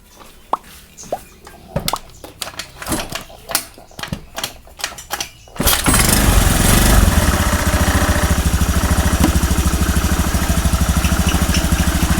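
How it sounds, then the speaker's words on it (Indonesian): A Honda Beat scooter engine, its carburetor missing, is started after scattered clicks and handling noises, then runs loudly and steadily at a close idle for several seconds. "Langsung kita cek, hidupin mesinnya."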